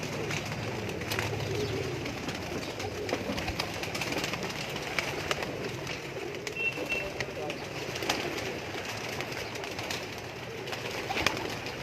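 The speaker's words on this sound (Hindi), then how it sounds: "बहुत ही अच्छे कबूतर इनके पास" Pigeons coo steadily in a breeding loft in Lahore, soft repeated calls layered under a constant bed of background noise and faint voices.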